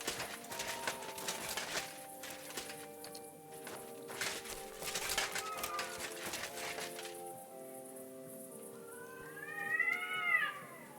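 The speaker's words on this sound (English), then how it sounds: "I was gonna look for what that cat noise was" Cats in Kingdom Come Deliverance II meow and yowl repeatedly over a medieval game ambience, with hoofbeat-like clopping and footsteps early on and a louder drawn-out caterwaul near the end.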